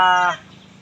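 A single loud, harmonic honk or crow-like call from a bird in a poultry yard, fading into low background noise.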